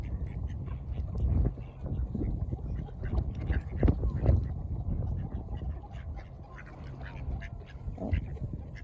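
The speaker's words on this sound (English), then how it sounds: "Oh, look at all these tourist ducks, the black and white ones." Tame black-and-white ducks quacking close by on a visitor-filled town spot in Stockbridge, with scattered calls over steady low background noise and occasional nearby human sounds.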